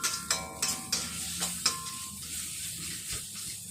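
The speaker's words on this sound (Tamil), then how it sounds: "ஸோ இந்த மாதிரி அடி பிடிக்காமல் இருக்கிறதுக்காக நல்லா கிண்டி விடுங்க" Kam Heong paste sizzling in hot oil in a pan while being stirred, several sharp scraping strokes of the utensil over the first two seconds, then a steady close frying hiss on its own.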